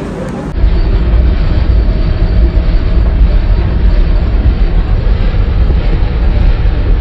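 Inside a 3E AC economy coach of the Mumbai Gitanjali Express, a loud, steady low rumble of the moving train fills the carriage, with faint rattling and no voices.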